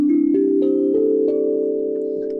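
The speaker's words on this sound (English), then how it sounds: "It is a steel tongue drum." A steel tongue drum rings out a few sustained, bell-like notes one after another, each overlapping the last as they shimmer and slowly fade, played alone with no talking.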